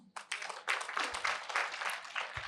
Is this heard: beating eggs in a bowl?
no